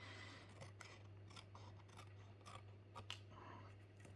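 Scissors snipping along the edges of a handmade paper birthday card, a quiet series of short crisp cuts at a close distance over a low steady hum, no talking.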